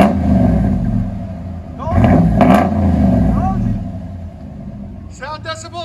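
A RAM 1500 pickup with a 5.7L HEMI V8 and aftermarket exhaust muffler rumbles close by, rising in a couple of quick revs before settling, with talk and background sounds over it near the end.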